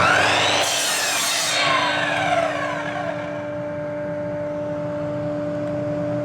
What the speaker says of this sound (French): je vais découper ces morceaux d'aggloméré, mais je vais les découper 4 par 4